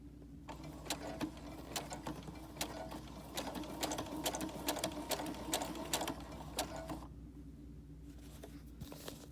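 A sewing machine stitches a fabric mask in a steady rapid mechanical whir with clicking needle strokes. It is fairly quiet and close, then drops away near the end.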